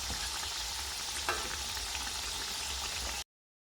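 Puffed snacks made from flour and tomato deep-fry in hot oil, a steady close bubbling sizzle with a faint scrape partway through, cutting off abruptly before the end; no one speaks.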